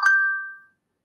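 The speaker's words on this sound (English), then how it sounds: "Sorry, that was my phone." A phone notification gives one bright, clean ding that rings out and fades within about half a second, followed by silence.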